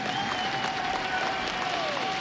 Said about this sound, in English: I want a massive round of applause, not just for Olaf, not just for Fnatic, but for VP as well.